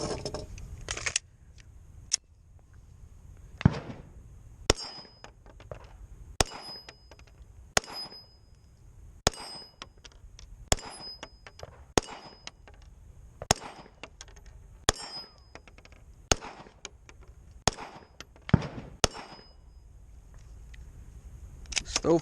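An M&P 2.0 pistol fires a steady series of single shots, roughly fifteen sharp reports spaced about a second apart, with faint metallic ringing after some and a jam pause in between.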